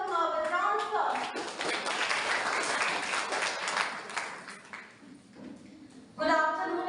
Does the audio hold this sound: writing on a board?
no